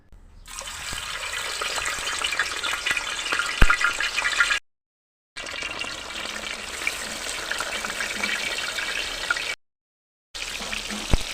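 Steady loud sizzling and crackling of food frying in hot oil outdoors in a yard, continuous with two brief silent gaps, no voices.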